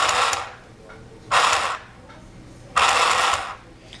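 Domestic sewing machine stitching a zipper into a costume, running in three short whirring bursts separated by quiet pauses.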